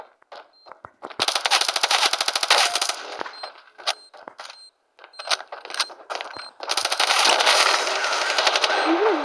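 Machine gun fire in a multiplayer shooter video game, with long loud rapid bursts broken by brief gaps and a few sharp single shots, dominating the mix.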